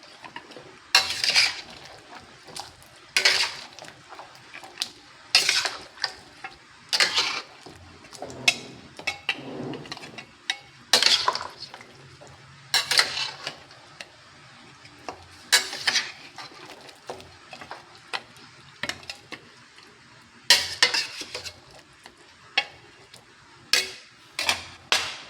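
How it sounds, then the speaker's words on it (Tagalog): Beef caldereta in a pot is stirred with a utensil, giving repeated scraping and clinking strokes against the metal in an uneven rhythm over about twenty-five seconds, close and fairly quiet, with no voices. "Haluin natin ulit."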